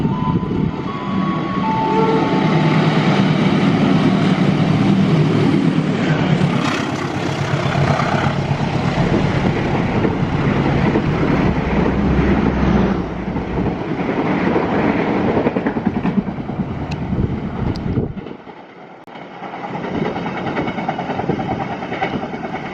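Kertajaya passenger train, an extra holiday service, rolls past close by with a loud steady rumble and rhythmic clickety-clack of wheels over rail joints, fading briefly near the end before the rolling noise resumes.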